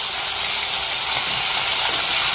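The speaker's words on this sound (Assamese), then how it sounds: "এতিয়া প্ৰথমে ফ্ৰাই কৰি ল'ব লাগিব।" Vannamei shrimp frying in hot oil in a wok, a steady loud hiss and sizzle throughout with no talk.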